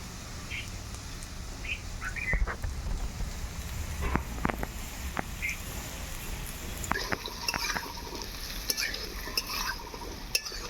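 Potatoes frying in oil in a home kitchen, a low steady sizzle with sharp spatula scrapes and taps against the pan, fairly quiet, with faint bird chirps in the background.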